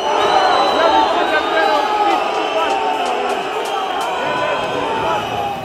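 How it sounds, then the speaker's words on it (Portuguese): A large stadium crowd of Barcelona supporters booing Dembélé, a loud continuous roar of jeers and shouts from many voices with no quiet gaps. "Dembélé já estava sendo vaiado pelos culés."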